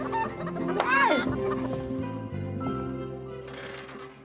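Chickens cluck inside a coop, a short run of close, moderately loud fowl calls with a rising squawk near the start, over a steady background of other noise and faint voices.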